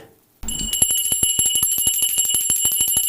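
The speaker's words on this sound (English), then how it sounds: "Ring that bell, boy." A bright bell rings in a radio-TV studio, struck repeatedly in a fast, even rapid-fire series after a brief silence, loud and close with long sustained metallic tones.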